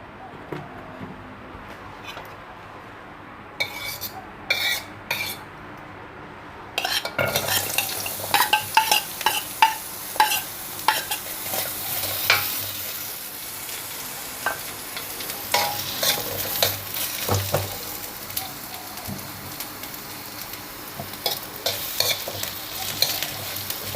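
Chilies, shallots and garlic fry in oil in a pan, a loud close sizzle with brisk repeated stirring and scraping of a utensil against the pan, after a few quieter clanks at the start.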